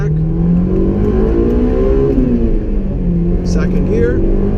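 A Honda S2000 engine pulls hard under acceleration, its tone rising steadily as the VTEC engages, heard from inside the car as a loud, continuous rising whine.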